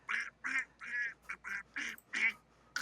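A voice imitates Donald Duck, giving a string of about seven raspy, nasal quacking syllables in short bursts, close and clear.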